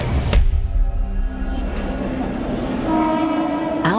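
A crowded, outdated passenger train rumbles loudly past at close range, with a blast of its horn near the start and another sustained horn tone toward the end.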